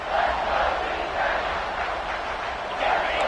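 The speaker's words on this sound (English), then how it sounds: "the crowd coming to life here trying to help this defense down in the red zone" A stadium crowd at an Ohio State at Oregon football game roars in a steady, broad wash of cheering and rises slightly in waves, heard far off and under a commentator's voice.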